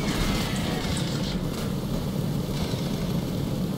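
A helicopter in a dinosaur hunting video game gives a steady, dense rotor and engine roar, constant and fairly loud throughout with no speech.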